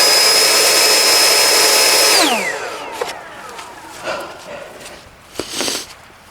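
A Ryobi 40V Lithium EDGE battery-powered blower screams at full turbo with a high steady whine, then winds down as the motor slows and fades, leaving faint clatter and thumps behind.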